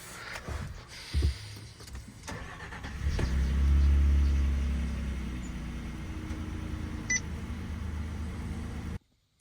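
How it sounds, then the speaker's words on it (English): A Ford Frontier engine turns over and starts, settling into a steady low rumble before cutting off abruptly near the end; a short electronic beep sounds midway. "Let me try to crank the car and just turn it off."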